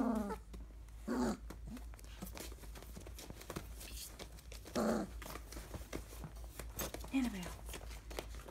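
Small 24-day-old puppies growl and yip while playing, in short, close bursts a few seconds apart, over a quiet background hum.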